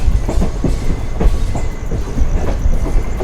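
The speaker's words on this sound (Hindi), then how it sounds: "तो अभी हमारी ट्रेन जस्ट पठानकोट पहुंच ही रही है" Sleeper-class Jammu Tawi–Jodhpur express train pulling into Pathankot station in India, with loud, steady rumble and repeated clickety-clack of wheels over rail joints throughout, no voices.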